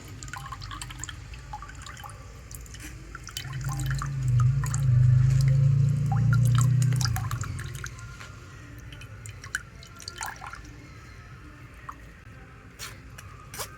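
Watermelon juice strains through a kitchen sieve, with scattered light drips and a brief, louder gush of liquid in the middle before it settles back to sparse trickling.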